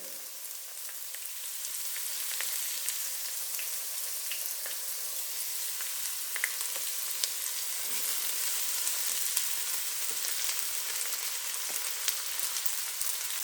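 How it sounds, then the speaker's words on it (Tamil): Chopped spring onion greens frying in oil for vegetable fried rice give a steady, even hiss of sizzling with faint crackles throughout, heard alone without talk. "இதை போட்டு எண்ணெயில் வறுத்துக்கலாங்க."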